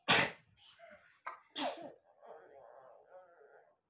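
A sharp sneeze bursts out from someone with a cold, followed quickly by a second smaller sneeze or cough, then quiet talking close by.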